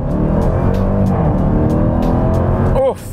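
A 2021 Dodge Durango Hellcat SUV launched from a stop at full throttle, a loud, close, steady supercharged engine roar for about three seconds before it cuts off abruptly, with a brief voice exclamation at the end.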